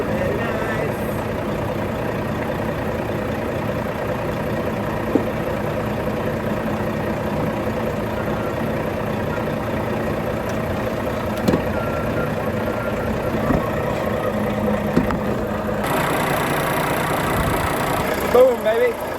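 A forklift truck engine idles steadily at a constant low rumble for the whole stretch, loud and close, with a brighter hiss entering near the end; someone talks over it at times.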